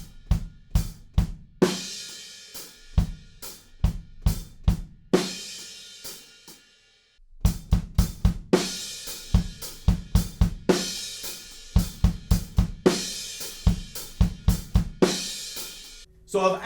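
Drum kit driving a final chorus groove in a song with added bass drum hits, busy kick-and-snare patterns and washy crash cymbals, loud and close, with a brief pause midway before the beat resumes.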